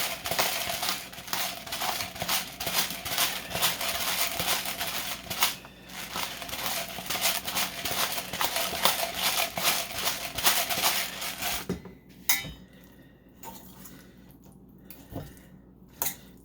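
Pork chops are tossed with garlic and seasoning in a bowl, a long run of rapid clattering, squelching and clinking close up, then sparser scattered taps and clicks after a pause.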